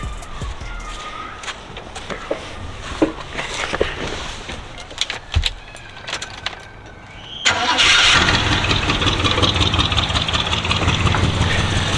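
A car engine cranks briefly and then catches, settling into a loud, steady run after a fuel line repair, with rustling and clicks before it starts.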